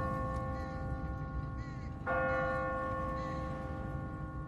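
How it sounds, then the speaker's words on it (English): Automatic church bell on a timer in The Walking Dead video game, a single loud struck tone with a long ringing decay over steady background ambience, no talking. "What kind of church bell goes off at 20 past the hour?"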